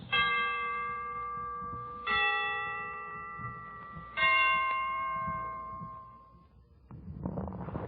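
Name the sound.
Christmas church bells ringing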